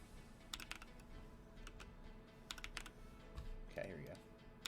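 Typing test on an Idobao ID80 keyboard fitted with Holy Panda switches: clusters of crisp clacky keystrokes in short irregular bursts with pauses between, faint and close, and a brief murmur of voice near the end.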